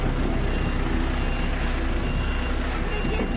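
A truck's reversing alarm beeps in a steady repeating pattern over a loud idling engine and road noise, close by and continuous.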